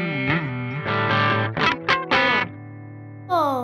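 A heavily distorted electric guitar plays a short, gritty riff with sustained buzzing notes, then a held chord and a final squealing slide.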